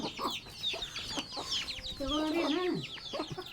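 A rooster and several chickens clucking close by, with short repeated clucks and one drawn-out squawking call, while people talk briefly in the background.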